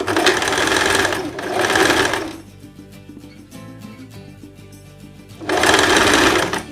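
Sewing machine stitching the side seams of a blouse, running in loud steady bursts with a short pause in the middle where it slows to lighter mechanical clatter before surging again.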